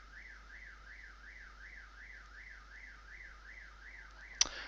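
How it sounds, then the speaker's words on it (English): A car alarm sounds outside in a steady repeating up-and-down electronic wail, fairly faint and distant, with a brief sharp knock near the end. "Their stupid car alarm."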